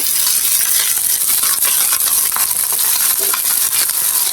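Garlic, onion and garlic leaves frying in a pan give a loud, steady hiss and crackle with no talk over it.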